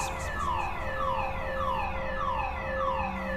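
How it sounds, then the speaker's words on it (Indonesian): A car alarm wails with repeating rising-and-falling tones in a steady cycle, moderately loud, with no voices. "tiba-tiba aku terbangun karena mendengar suara alarm mobil yang berbunyi di basement"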